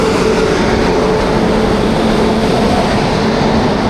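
Arriving train hauled by WAP-7 electric locomotive 37180 in heavy rain at a station on the Shoranur–Thiruvananthapuram route, a steady low rumble and rolling rail noise filling the scene without a break, close and loud with no voices.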